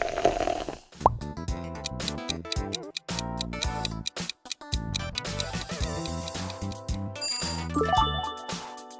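Coca-Cola sonic logo: a busy, bright burst of fizzy pops, clinks and tonal chimes with a rising sparkle near the end, dense and layered for about nine seconds.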